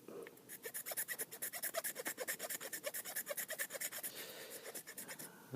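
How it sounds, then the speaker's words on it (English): Hand filing of a freehand wooden tobacco pipe being carved, a quick, steady rhythm of rasping strokes close by and fairly quiet, continuing without speech. "it's filing stuff off, so I think it's okay."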